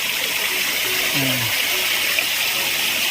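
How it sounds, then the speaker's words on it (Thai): Waterfall in the photo area of a riverside garden resort in Saraburi, Thailand: a steady, continuous broadband rush of falling water, fairly close, with brief faint voice traces underneath. "นี่เป็นโซนน้ำตก"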